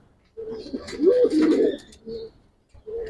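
Pigeons coo in a loft on an overcast day, several soft throaty calls close by with short pauses between, a faint chirp mixed in.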